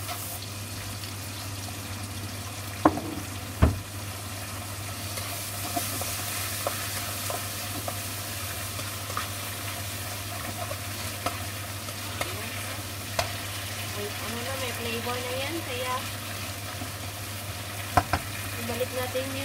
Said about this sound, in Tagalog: Balik natin yung nag-prito natin ng patties.